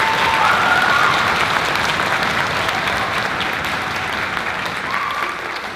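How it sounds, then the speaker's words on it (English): A concert audience applauds percussionists and a pianist at a high school spring concert, dense steady clapping filling the hall for several seconds and tapering slightly toward the end. "So let's give them a round of applause."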